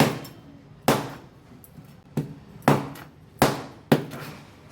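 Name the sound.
chopping the head off a Halwa fish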